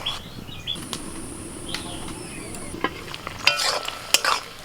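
Chopped banana flower drops into an oiled wok with salt and turmeric, giving a soft sizzle and scattered clinks and scrapes of stirring, brief sharp knocks near the end, close and moderately loud.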